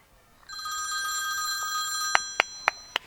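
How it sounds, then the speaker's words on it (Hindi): A telephone rings with a steady electronic tone that starts after a brief pause and holds, then several sharp clicks or taps punctuate the end; no speech is heard. "वो फोन आ रहा है।"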